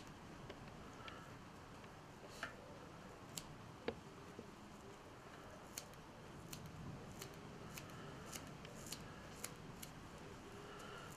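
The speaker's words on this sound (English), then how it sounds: "let's just get the scissors on this and see if we can make something of it" Scissors trimming clipped deer hair on a floating perch fry fly at a fly-tying bench: a quiet, steady run of light, close snips and ticks over a soft background hiss.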